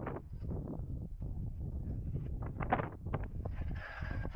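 Gusty wind buffets the microphone outdoors during a laser-scanner field survey, in low, rumbling bursts that rise and fall, with a faint hiss creeping in near the end.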